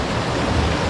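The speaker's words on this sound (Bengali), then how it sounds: "জলের আওয়াজ" Steady rushing water outdoors in a snowy Norwegian landscape, a continuous broadband wash that fills the whole brief moment with no voices.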